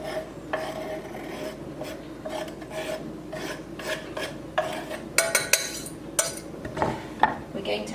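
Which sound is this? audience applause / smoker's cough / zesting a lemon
zesting a lemon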